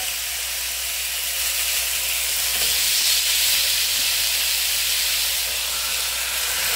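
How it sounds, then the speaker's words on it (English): Pork chops browning in a hot pan give a steady, loud sizzle with broad hiss that holds evenly throughout, with no voices. "So now what I'm going to do is take these pork chops and put these right in here"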